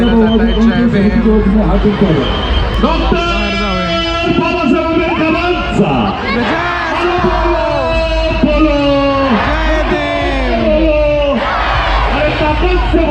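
Dense crowd at a Bhim Jayanti night procession on Nashik Road, Shalimar area in Nashik, a loud continuous roar of many voices with shouting, whoops and slogan chanting throughout.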